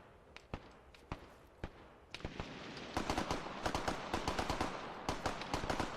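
Military video game gunfire: scattered single shots at first, then denser rapid bursts of sharp cracks, moderately distant and unaccompanied by talk.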